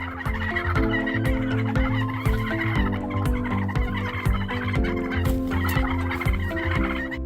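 Turkeys gobble over and over in loud, overlapping bursts, a dense flock chorus filling the whole stretch with no pauses.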